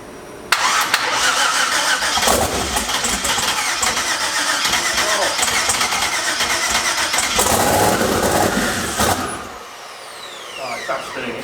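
An engine is cranked on its starter on a first start attempt, a loud continuous churning and spinning that lasts several seconds before cutting off, while people talk nearby.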